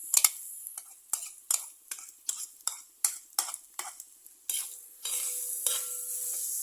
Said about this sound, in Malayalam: ഇത് നന്നായിട്ടൊന്ന് ഫ്രൈ ആയി വരണം